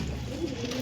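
Pigeons at a busy market coo once in a brief soft call over low background murmur, heard at close range.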